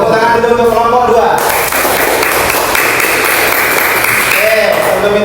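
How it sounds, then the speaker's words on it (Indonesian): Classroom audience at a university teaching session applauding a student group, steady loud clapping that begins over lingering voices and continues throughout. "Tepuk tangan dulu untuk kelompok 2."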